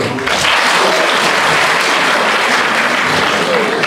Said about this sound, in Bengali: একটা বড় হাততালি রাষ্ট্রচিন্তার জন্য।